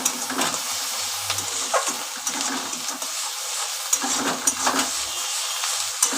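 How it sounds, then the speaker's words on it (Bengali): Ginger, garlic and onion sizzle and hiss in a hot pan while being stirred, with soft scraping strokes and bursts of frying recurring through the quiet, close-up scene. "আদা রসুন পেঁয়াজ তিনটেই একসঙ্গে ভালো করে কষিয়ে নিচ্ছি।"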